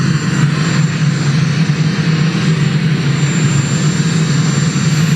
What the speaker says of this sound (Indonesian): Trump berangkat ke Cina menggunakan pesawat Air Force One dengan pengawalan ketat